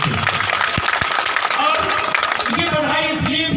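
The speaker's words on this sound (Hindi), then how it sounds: "तो एक बार जोरदार तालियां बजाइए" Crowd applause breaks out at an outdoor BJP election street-corner rally in Utraula, a dense, continuous clapping that builds and stays loud throughout, with a voice talking over it.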